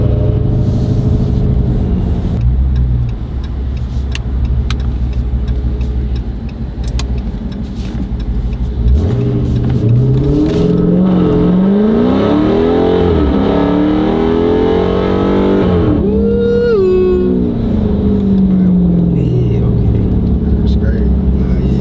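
Dodge Challenger Hellcat Redeye engine roaring loudly as it revs and accelerates hard, with rising and falling pitch sweeps through several gear changes, close up from inside the car.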